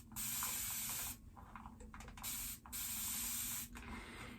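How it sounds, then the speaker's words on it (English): A continuous-mist spray bottle releasing water in long, steady hissing bursts, loud and close, with brief pauses between three or four sustained sprays and no voices. "It's a continuous spray bottle."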